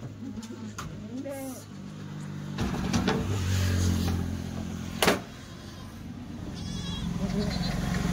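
Kathiyawadi goats bleat at an outdoor market with a few wavering calls scattered early on, mixed with traffic and crowd noise, while people talk nearby.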